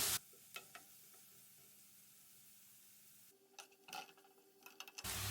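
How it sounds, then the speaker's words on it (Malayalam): Thinly sliced onion sautés in hot oil with a faint, quiet sizzle, broken by a few light clicks of stirring near the end. "ചൂടായ ഓയിലിലേക്ക് ഒരു സവാള കനം കുറച്ചരിഞ്ഞത് ഇതിലേക്ക് ചേർത്ത് കൊടുക്കാം. ഇത് നന്നായി വഴറ്റിയെടുക്കാം."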